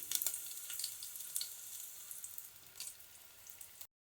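Onions and dried red chillies frying in hot oil for tomato rasam, a steady soft sizzle with small crackling pops throughout, close and fairly quiet, ending abruptly, no voices.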